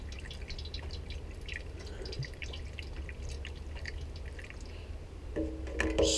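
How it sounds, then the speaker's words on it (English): Muriatic acid trickles through a funnel into a rusty gas tank with a faint, steady pouring and dripping. A brief clatter comes near the end. "I'm going to pour this muriatic acid all in here"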